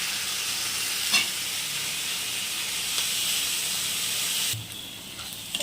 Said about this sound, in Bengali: দেখো এর মধ্যে আদা রসুন কুচিটাও দিয়ে দিলাম, পেঁয়াজের সাথে ভালো করে লাল করে ভাজবো।